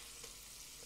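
Chicken liver fries in a pan, giving a faint, steady low sizzle with no voices.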